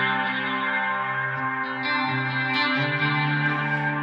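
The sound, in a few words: tape echo effect on guitar pedal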